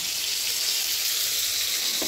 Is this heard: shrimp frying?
yes